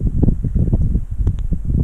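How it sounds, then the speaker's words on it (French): Fresh sunrise wind sweeps through moving tree branches on the Gévaudan uplands of Lozère, a steady, blustery low rumble buffeting close to the microphone with no speech. "les branches bougent, il y a une espèce de vent frais"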